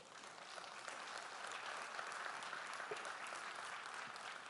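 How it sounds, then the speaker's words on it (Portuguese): Church congregation applauding steadily through a worship service, a dense, sustained wash of clapping from a large crowd with no pauses, fairly loud and even throughout. "aplauda ao Senhor."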